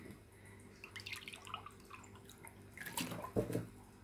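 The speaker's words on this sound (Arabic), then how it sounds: "زيدي له ثاني كاس تاع الماء" Water poured from a glass into grenadine syrup while making a fruit salad: soft trickling and dripping, quiet and close, swelling into a brief splashing pour near the end.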